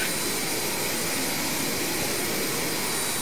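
Steady, dense jet engine roar from an airliner in the X-Plane 11 flight simulator game, a constant broadband whoosh and hum held at an even level throughout with no voices over it.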